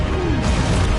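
A Confringo blasting spell strikes in Hogwarts Legacy, a loud, dense crashing burst that fills the moment with a rumbling explosive impact and no voices.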